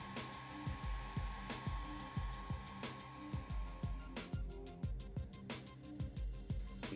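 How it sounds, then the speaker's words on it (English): A heat gun blows steadily while heating the ends of a hose during installation of an oil catch can on a 2014-or-later Ford Fiesta ST, with a continuous whir broken by repeated low knocks and clunks. "And heat the ends with the heat gun."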